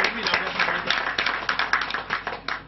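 A small crowd at a medical donation ceremony for a hospital in Douala claps in a loose, uneven patter of individual hand strikes, moderately close, with a voice briefly audible alongside.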